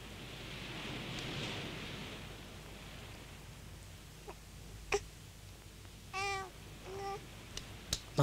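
A cat meows a few times close by in a quiet room, short harmonic calls arriving one after another toward the end, with faint background noise and a brief cough-like sound.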